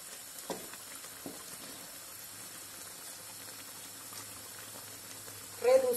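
Chicken simmering in beer in a pan makes a low, steady bubbling sizzle throughout, with brief utensil knocks and a short louder scrape or stir near the end.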